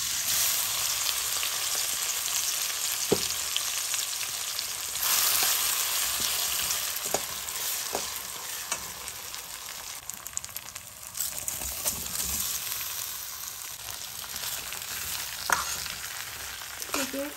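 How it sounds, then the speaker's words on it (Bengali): Washed rice frying in oil tempered with whole spices for a Saraswati puja khichuri, giving a steady, close sizzling hiss with occasional scraping stir clicks throughout, no voices. "এবার এই ধুয়ে নেওয়া চালটা এখন আমি ফোড়নে দিয়ে ভাজব, ফোড়নে ভেজে রাখা তেলের ভিতর ভাজব।"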